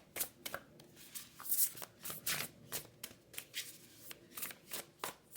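Tarot cards are shuffled and drawn in a steady run of quick, crisp riffling and sliding flicks, close and clear with no talking.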